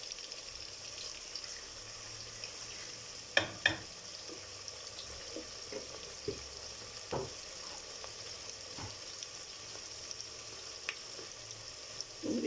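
Onions with a spoonful of whole cumin seeds fry in a pan for an aloo gosht, giving a soft steady sizzle with a few clinks and stirring knocks, with no talking.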